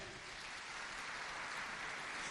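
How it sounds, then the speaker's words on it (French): Audience applause at an official launch ceremony for a civil society platform: dense, continuous clapping from a sizeable crowd, even in level and somewhat distant, with no talk over it. "je demande qu'on applaudisse très fort pour vous"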